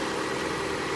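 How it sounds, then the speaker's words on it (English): A Vauxhall/Opel Astra J engine idles steadily at close range, a continuous even hum and rumble with no speech. "Okay, just started the engine literally about 30 seconds ago."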